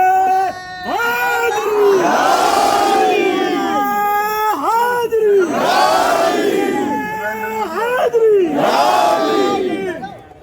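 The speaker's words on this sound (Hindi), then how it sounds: "बस नारे लगाते रहना" A large crowd at an after-Friday-prayers protest rally chants slogans in loud, rhythmic call-and-response waves, three big surges of massed voices rising and falling over about ten seconds.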